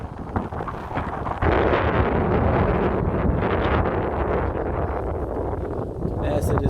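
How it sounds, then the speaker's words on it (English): Strong wind buffets the microphone almost without pause while walking beside the Freetown–Masiaka highway in Sierra Leone, a loud, broadband roar that swells after the first second and stays heavy, with speech mixed in. "it is very, very windy as we are walking on this particular side"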